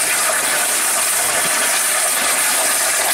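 The steam engine of the steam launch Midship starts under full steam pressure at about 6 bars, giving a loud, steady roaring hiss with a faint mechanical chatter underneath and no voices.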